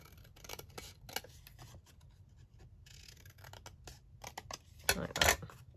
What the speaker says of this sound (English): on this side I'll just cut this down